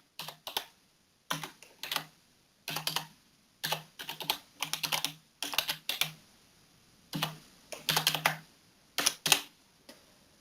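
Typing on a computer keyboard in short bursts of quick, crisp key clacks separated by brief pauses, close and clear with no talking.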